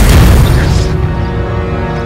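A Confringo explosive spell goes off in Hogwarts Legacy: a loud, close, booming blast at the start that rolls into a fading rumble and crackle over about two seconds, with no talk.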